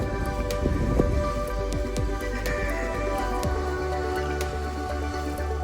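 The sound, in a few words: water splashing from a garden waterfall into a pond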